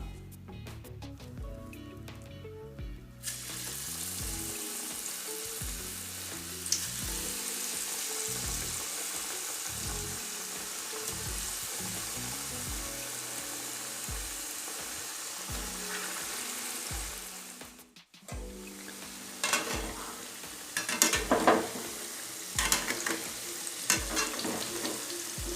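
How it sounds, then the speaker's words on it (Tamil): Small vada dough balls deep-frying in hot oil, a constant loud crackling sizzle throughout, with a brief drop near the end, then sharper spattering pops and utensil knocks. "அதனால் சின்ன சின்ன உருண்டைகளாக போட்டு பொரிச்சு எடுத்துக்கலாம்."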